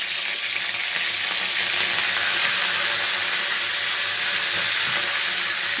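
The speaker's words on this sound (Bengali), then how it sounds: "এরপর আমি কারি পাতা শুকনো লঙ্কা একটু ফোড়নে দিয়ে দিলাম" Curry leaves and dried chillies tempering in hot oil for a yogurt eggplant dish, giving a steady, dense sizzle and crackle that holds evenly throughout, close and fairly loud with no voices.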